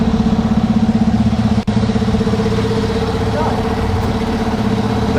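A British racing truck engine idles loudly and close in parc fermé, a throbbing, regular beat that briefly dips and then carries on steadily, with people talking nearby.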